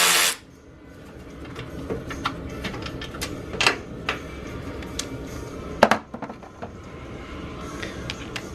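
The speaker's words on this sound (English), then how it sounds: "we're first going to take this bolt off the fender" A socket wrench works a bolt loose from a Subaru WRX fender, giving light ratcheting clicks and scattered metallic taps against a steady background hum.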